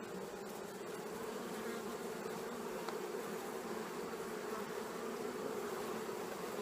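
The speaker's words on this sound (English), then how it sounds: "I am going to brush these bees off here." Honey bees hum in a dense, steady buzz close by as they are brushed off a bar of capped honeycomb lifted from a hive, continuous and even without any talking.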